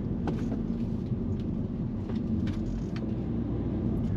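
A Mini Cooper S (F56) pulls away smoothly, heard from inside the cabin as a low, steady engine and road rumble that stays even throughout, with no voices.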